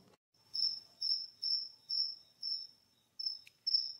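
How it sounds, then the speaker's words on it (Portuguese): A cricket chirps close by in a steady series of short, high, shrill trills separated by brief pauses, with nothing else around. "Esse grilo é insuportável, gente."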